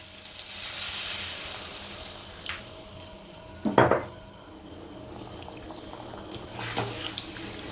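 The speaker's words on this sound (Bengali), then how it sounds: "এরপর আমি গরম জল দিয়ে দিলাম" Hot water poured into a cooking pot of frying vegetables, with a sharp hiss and sizzle bursting up midway, metal pot and utensil clinks around it, and a steady background sizzle.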